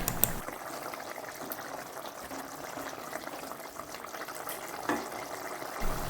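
Tamarind water simmering for a shallot curry, a soft continuous bubbling and hiss of liquid heard close but faint, with a couple of small splashy pops and no talking.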